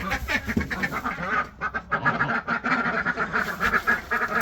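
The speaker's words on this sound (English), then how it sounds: "I don't need a broody duck yet" Ducks quack loudly and continuously at close range, with several overlapping calls in a busy, raspy chorus.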